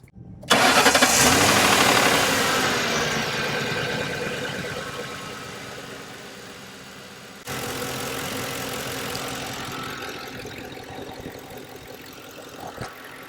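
A Mercury Grand Marquis engine cranks and catches, then settles into a steady, loud idle that runs on for several seconds, with a brief dip and then a rise partway through.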